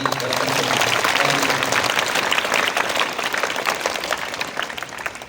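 A school audience at a rally in Venkatagiri applauds loudly and steadily to welcome a guest, with dense clapping that fades slightly toward the end.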